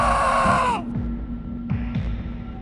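A man's long, piercing scream rings out and fades into a reverberant, empty mansion, followed by low hum and faint echoing tones, in a haunting horror-story soundscape.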